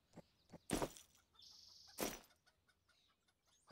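Chickens in the farming video game Farmer's Life, cluck and squawk in short bursts with a couple of loud flapping flurries, close and quiet otherwise, no talk.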